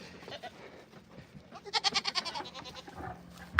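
Several free-range goats bleat close by in a rapid series of nasal, wavering cries that build to a loud burst, then fade into softer calls around a farm during chores.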